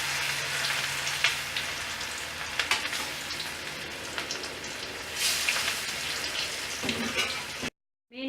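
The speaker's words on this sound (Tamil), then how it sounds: "மீனை பொரித்தெடுத்தல்." Fish fries in hot oil after being coated with salt and turmeric powder, giving a dense, crackling sizzle with sharp pops that keeps going steadily before cutting off abruptly.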